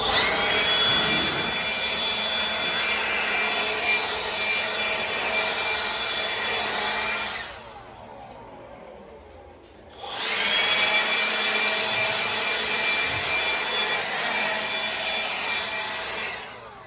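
Steady loud whoosh of a leaf blower clearing dirt after a junk removal cleanout, running continuously, cutting out briefly for a couple of seconds, then roaring back up.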